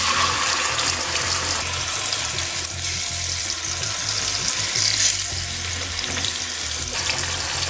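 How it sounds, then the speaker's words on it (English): Tilapia fillets fry in a pan with garlic over a medium flame, giving a loud, continuous close-up sizzle that swells and eases slightly with no voices. "just let the fish cook for a couple of minutes on each side"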